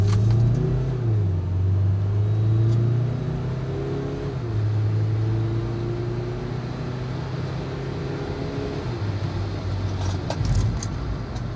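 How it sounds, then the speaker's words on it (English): A Mazda 2 with a turbo diesel engine pulls hard from a standstill toward 100 km/h, its engine note rising and climbing through gear changes, steady and close inside the cabin with road rumble beneath and no talk. "this little Mazda 2 is supposed to be propelled from 0 to 100 kilometers an hour in just under 10 seconds, which I can confirm"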